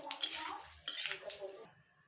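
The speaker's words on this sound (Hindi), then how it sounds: "अब इसमें मूंगफली को फ्राई कर लूँगी। बस हल्का सा ही फ्राई करना है।" Peanuts frying in a kadhai, a metal spoon clattering and scraping against the pan in two bursts before the noise stops.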